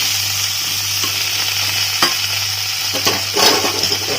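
Unpeeled potato pieces fry in oil in a pan as samosa filling, a loud, even sizzle with a low hum beneath and a few clattering stirs near the end.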